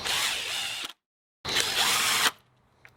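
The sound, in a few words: power drill driving screws into door hinges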